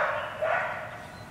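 A dog barks nearby outdoors while a flow-through worm composter is being built, sounding as one sustained bark-like call that fades over about a second.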